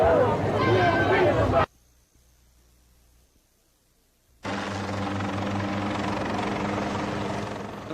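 Loud helicopter drone with crowd chatter at the Murphy Homes projects in 1980s Baltimore, cut by a near-silent gap, then a steady overhead rotor roar returns and holds.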